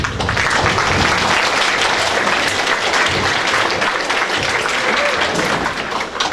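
Loud, sustained applause from an audience of staff, students and guests at a junior prize giving, a steady dense wash of clapping with a faint murmur of voices underneath.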